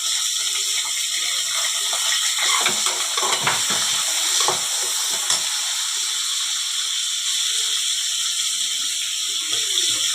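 Onions frying in oil for mushroom biryani, a steady broadband sizzle with intermittent stirring scrapes, continuous and fairly close, without talk.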